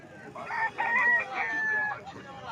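A rooster at a desi poultry market in Purulia gives one drawn-out crow of about two seconds, fairly close and clear against a quiet background.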